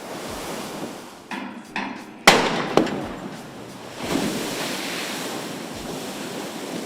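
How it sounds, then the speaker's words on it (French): NASA Orion capsule dropped in a water landing test: a sharp loud impact splash around the midpoint, followed by rushing, churning water and surf-like wash with wind noise, preceded by a few faint thuds. "cette agence effectue les essais d'atterrissage sur l'eau de la capsule Orion"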